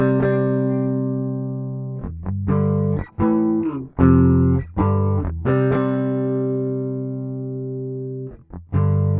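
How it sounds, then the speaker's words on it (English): An electric guitar plays a series of clean, ringing power chords, struck one after another with brief gaps between them. No one speaks. "This is a power chord which is used a lot when playing electric guitar."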